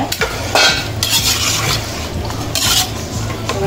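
Chili and coriander masala powders stirred into a pan for mutton dhalicha, a steady close scraping and stirring with a light sizzle running underneath, spoon strokes rising in bursts throughout.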